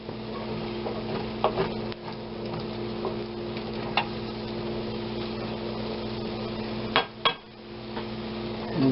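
Cooked onions and turnips being folded in a pan, with soft stirring scrapes and occasional clinks of a utensil against the pan over a faint sizzle, close and steady.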